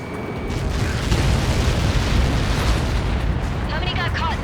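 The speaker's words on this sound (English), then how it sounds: "How many got caught in that explosion?" A massive impact explosion in the Ace Combat 7 flight game rolls out as a sustained deep rumbling roar that stays loud throughout, with a crackling tail and faint radio-style chatter near the end.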